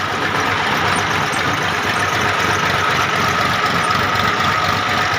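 A Massey 85 tractor engine runs continuously at a steady idle, a loud, rumbling drone with a faint knocking texture throughout.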